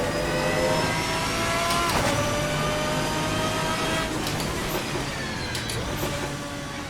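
A V12 race car in the Assetto Corsa sim howls at sustained high revs, with rising harmonic pitch sweeps and brief dips at gear changes, loud and close throughout.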